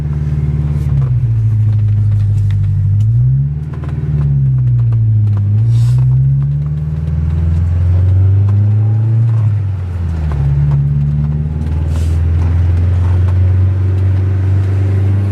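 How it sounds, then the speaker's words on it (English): A Honda S2000 on newly fitted StopTech brakes and rotors drives with a loud, close engine note that rises and falls through several gear changes over road rumble, with no talking. "we're taking the S2000 out for a drive to test the brakes"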